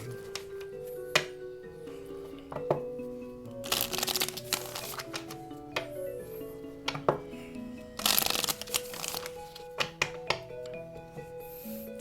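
Oracle cards are shuffled by hand during a tarot-style reading, a close series of riffling, slapping card bursts with taps and pauses between them, and no speech in between.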